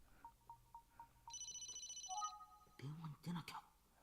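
A phone ringing in a video game: short repeated electronic beeps followed by a sustained trilling ring tone, with game sounds and a brief voice at the end.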